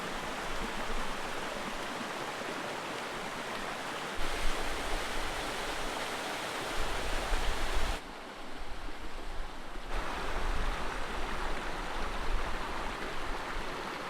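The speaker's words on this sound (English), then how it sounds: "there's just this waterfall, and or this river anyway, and it's got these beautiful pools the whole way down" Mountain river and waterfall rushing through a valley on Corsica's GR20 trail, a loud, steady broadband roar of flowing water close by, continuous with slight shifts in intensity and no voices.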